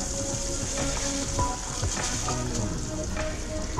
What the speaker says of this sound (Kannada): ಈಗ ನಾನು ಓಟ್ಸ್ ಹಾಕ್ಕೊಳ್ತಾ ಇದ್ದೀನಿ